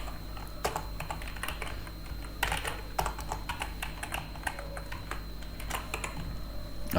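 Rapid, irregular keystrokes on a computer keyboard while coding a React Native app, a steady patter of close, crisp clicks with occasional louder key strikes over a low background hum.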